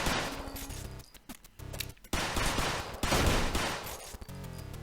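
Rifle fire in the video game GUNGUNGUN, rapid, dense bursts of shots and crashing impacts in a loud, nearly unbroken barrage with short pauses.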